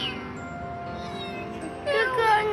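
A kitten gives a short mewing cry near the end, rising over steady background talk and a faint music bed.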